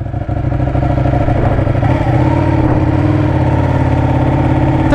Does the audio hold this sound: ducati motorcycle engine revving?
yes